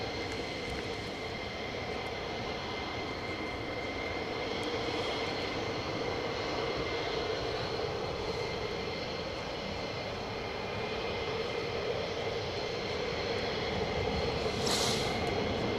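An F-15 military jet takes off at RAF Lakenheath, a loud, sustained engine roar that holds steady throughout.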